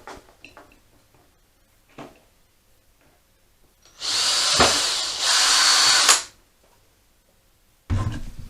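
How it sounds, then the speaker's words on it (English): A power drill whirs for about two seconds, pausing briefly mid-bore as it bores a small vent hole in a motorbike fuel cap, with a few light taps and knocks before and after. "just drill a little vent hole in the top of the cap"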